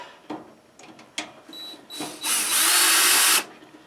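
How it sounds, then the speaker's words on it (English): Screws being removed from the casing of a 240V wall thermostat with a power driver: a few clicks and taps, then a loud close whir for about a second before it stops. "I guess I can take these two screws out and find out"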